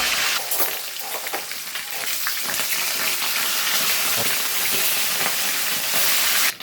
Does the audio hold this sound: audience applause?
no